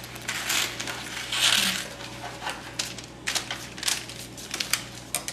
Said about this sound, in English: it's going to crumple the paper